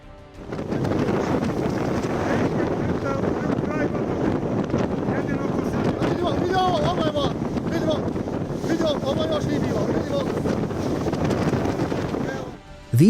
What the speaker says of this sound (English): This is what happens to moored boats during a storm.